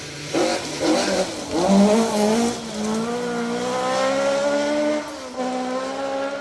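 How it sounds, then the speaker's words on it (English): A rear-wheel-drive Vauxhall Astra rally car engine on a rally stage revs hard and climbs through the gears, a loud, raspy drone with a brief lift-off and rising pitch near the end. "Little rear-wheel drive Astra. Looks the part. Sounds the part."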